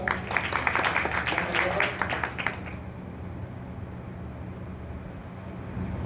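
Applause from an audience fills the first few seconds, a dense wash of clapping that fades out, leaving a low steady room hum.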